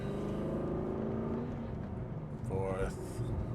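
Engine of a 2014 Aston Martin V8 Vantage pulling up through the gears, a steady low drone heard from inside the cabin, with a voice talking over it throughout.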